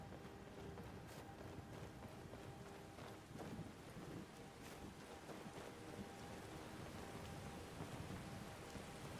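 A thunderstorm in Skyrim: steady hissing rain with occasional low thunder rumbles and sharper crackles, continuous and fairly faint, with no voices.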